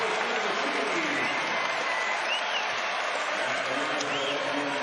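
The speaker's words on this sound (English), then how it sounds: "Listen to this crowd for their big man." Basketball arena crowd roaring for a big man returning to the court during an Iowa State versus Texas Longhorns game, a loud, steady, unbroken wall of cheering that fills the whole stretch.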